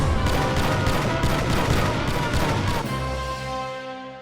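Dense rapid gunfire in a video game, a continuous roar of overlapping shots and blasts that holds steady and then fades out into a ringing tail, loud and close with no clear talk.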